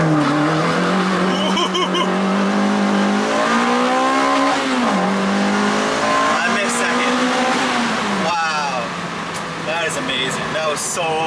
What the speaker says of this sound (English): Okay, let's launch it. We're gonna launch it through the tunnel.